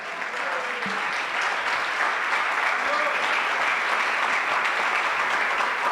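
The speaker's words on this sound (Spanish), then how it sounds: "Denle un aplauso a Cristo en esta hora." A church congregation applauds during a sermon, a continuous even wash of many hands clapping at steady loudness for several seconds, with faint voices beneath.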